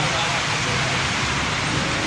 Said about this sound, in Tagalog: ayaw tumila ng ulan eh